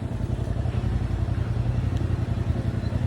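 A motorcycle rides past cars in Paris, its steady engine drone close and continuous with a low rumble and light clatter from traffic around it.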